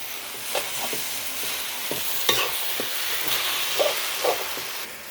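Old-style Thai red noodles are stir-fried in a hot pan, a steady loud sizzle with scattered scraping and tossing clatters of the spatula throughout.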